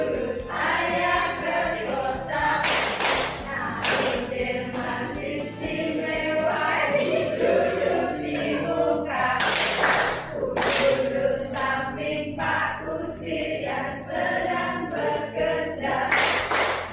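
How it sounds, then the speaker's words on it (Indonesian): A group of teachers at a guiding-teacher training session in Lamongan claps in loud, sharp bursts at intervals, mixed with singing or chanting voices throughout. "Tepuk tangan untuk kita semua."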